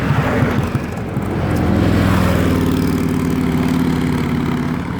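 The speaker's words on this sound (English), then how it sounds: "Now see, those bikes weren't that loud" Motorbikes pass on a road in New Milford, a steady mid-loud engine drone that swells and holds with harmonic hum, heard alone without talk.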